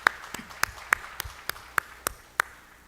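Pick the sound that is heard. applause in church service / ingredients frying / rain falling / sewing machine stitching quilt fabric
applause in church service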